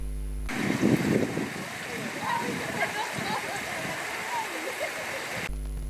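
Kimemi river flowing past a neighbourhood in Butembo, a continuous rushing, gurgling stream with a few splashes, moderately loud and close, with a voice speaking over it.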